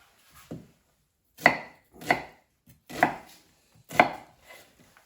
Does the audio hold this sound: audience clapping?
no